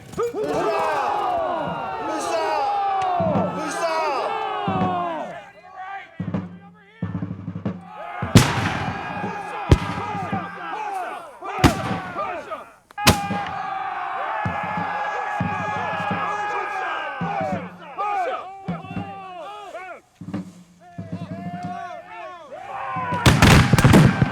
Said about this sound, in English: the first shots of the battle have been fired